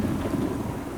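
Heavy rain pours down in a continuous rumbling wash on an exposed, crumbling cliff, with a low thunder-like roar beneath it, loud and unbroken.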